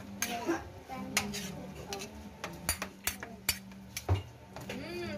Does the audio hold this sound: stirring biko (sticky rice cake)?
yes